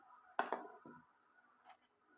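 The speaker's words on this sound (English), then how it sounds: "This is the scissors for trimming threads after sewing." Finishing scissors for trimming threads after sewing, snipping twice in quick succession, close and crisp, followed by a softer faint rustle; no talk.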